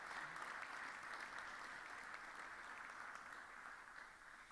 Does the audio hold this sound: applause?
yes